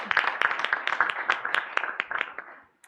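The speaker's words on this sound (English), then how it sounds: "So let's give them all a round of applause." An audience at a UN workshop panel on illegal fishing claps for the panelists in a short, dense burst of applause that tapers off after a few seconds.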